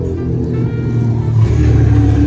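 A NASCAR race car roars past at a speedway, its deep engine drone loud and building steadily as it nears, with no talk over it.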